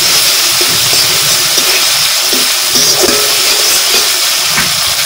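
Spice paste for a desi shing fish curry frying in a pan, a loud, steady hiss and sizzle with small crackles throughout and no talking.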